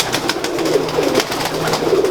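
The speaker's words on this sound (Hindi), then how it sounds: "ये सियालकोटी कबूतर है" Sialkoti pigeon cooing close by, a low, soft, repeated throaty coo over a brief stretch.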